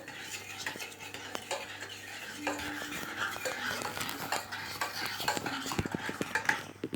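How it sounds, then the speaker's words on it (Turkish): Cake batter stirred in a bowl with a utensil, a continuous close scraping and clinking of spoon against the bowl with irregular knocks, quiet and steady throughout. "Karıştıralım biraz daha."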